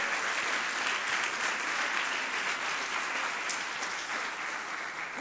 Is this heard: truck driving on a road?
no